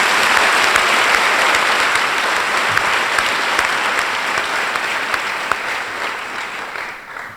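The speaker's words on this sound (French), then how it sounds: "de rendre hommage au docteur Massamba Gueye, que je vous demande d'applaudir chaleureusement." Audience at a graduation ceremony for agents applauds warmly, dense sustained clapping from a large crowd that holds steady and slowly fades toward the end.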